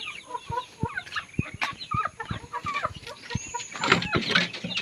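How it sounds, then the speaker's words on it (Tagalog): Asil Burmese chicks and a broody hen at feeding time, the hen clucking low and steady while the chicks give high, quick peeps close by. "magpapatuka muna tayo ng ating mga alaga"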